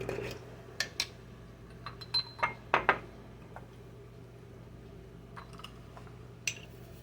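A glass spice jar being opened in a home kitchen: a few light clinks and taps of glass near the start, then sparse small ticks over a quiet steady hum.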